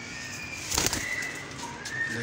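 Kasuri pigeons shifting about and flapping their wings in a short burst, close and fairly loud over a faint background hiss.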